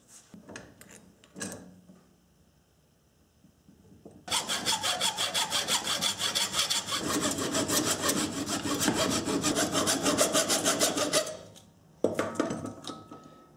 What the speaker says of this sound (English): And just cut me a little notch like that. Yeah, with a hacksaw.